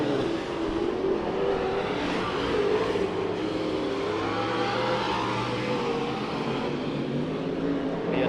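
Pro Stock race cars in a heat race at Santa Maria Raceway, a field of five cars, give off a steady blended engine roar at a moderate distance that stays continuous throughout with no talk.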